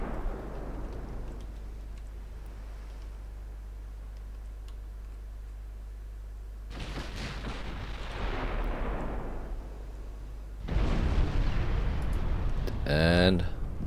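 Warship gun turrets in the naval game Ultimate Admiral Dreadnoughts fire in heavy booming salvos, with rumbling blasts that swell and linger over a low engine drone, ending in a sharp crackling burst.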